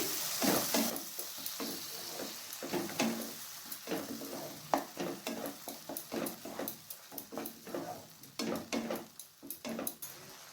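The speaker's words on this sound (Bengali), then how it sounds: "টমেটো পেস্টটাকে পেঁয়াজ রসুন আদার সঙ্গে ভালোভাবে মিশিয়ে নিচ্ছি" A spoon stirs tomato paste together with onion, garlic and ginger in a pan while making kabuli chana, scraping and tapping in an irregular rhythm over a soft sizzle, close and fairly loud.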